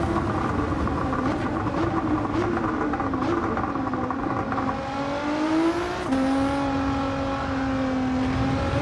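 A race car engine in Gran Turismo 7 drones loud and close, its pitch rising and falling with gear changes and cornering, and a brief shift near the end.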